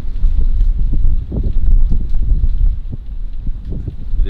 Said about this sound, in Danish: jeg kan sige, at det blæser faktisk så meget, at båden den kringer en lille bitte smule over bare på det her ankersejl.